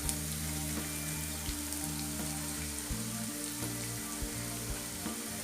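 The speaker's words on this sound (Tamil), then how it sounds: "கொஞ்சம் போல் சீரகம் ஆட் பண்ணிக்கலாம்." Cumin seeds sizzling and frying in hot oil in a pan while mint chutney is made, a steady close crackling hiss that carries on throughout with no talking.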